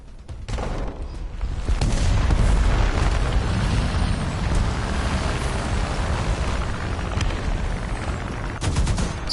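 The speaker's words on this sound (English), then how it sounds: "I'm gonna try and hit that 109 with an HE proxy shell." Cannon fire from HE proximity shells aimed at a Bf 109 in War Thunder, a dense, continuous roar of rapid booming shots and blasts holding loud and steady throughout without any talk.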